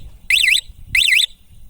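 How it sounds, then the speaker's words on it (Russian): Delta Racer moped alarm armed by remote gives two short, loud warbling chirps about half a second apart, close by, with quiet gaps around them. "Сейчас первая кнопка означает поставить на сигнализацию."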